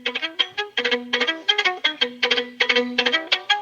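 Violin played with a ricochet bow stroke, the bow bouncing on the string in quick clustered bursts of short notes, close and clear with no talking.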